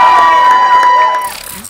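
Live audience at a stand-up roast battle cheering and clapping as a comedian is introduced, a loud bright surge of whoops and applause that fades away within about a second and a half.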